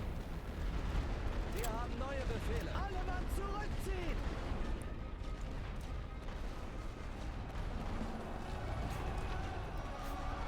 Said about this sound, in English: they're going to keep hitting me with artillery